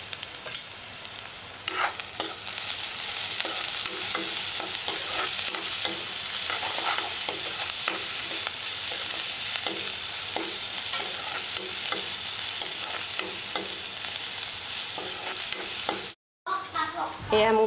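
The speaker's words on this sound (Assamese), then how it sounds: "এয়া মোৰ পিঁয়াজখিনি ভজা হৈ গৈছে" Onions fry in a pan with salt and turmeric, a steady close sizzle under repeated scraping and stirring strokes. The sound cuts out briefly near the end, then the sizzle comes back.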